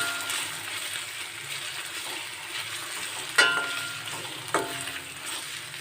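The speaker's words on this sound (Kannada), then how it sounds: "ಶುಂಠಿ ಮತ್ತು ಸ್ವಲ್ಪ ಕೊತ್ತಂಬರಿ ಪೇಸ್ಟ್ನ ಪೇಸ್ಟ್ಗಳನ್ನು ಹಾಕಿಬಿಟ್ಟು ನೋಡಿ ಈ ಥರ ಫ್ರೈ ಮಾಡ್ಕೊಳ್ಳಿ" Ginger and coriander paste frying in a pan for masala noodles, a steady close sizzle with stirring throughout and two sharp scrapes or clatters of the utensil against the pan near the middle.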